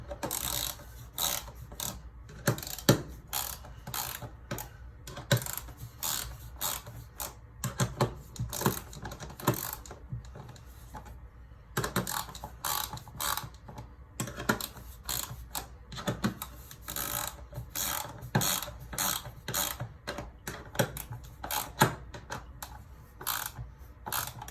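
Metal bolts on the clamping ring of a shower drain are worked around one after another with a hand tool, giving a steady run of close, dry ratcheting clicks and small mechanical ticks with short pauses and no talking.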